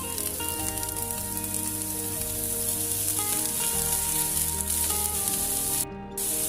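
Chopped spinach goes into a pan of sautéed, translucent onions for a stir fry, producing a loud, continuous hissing sizzle with faint stirring, close up and without speech.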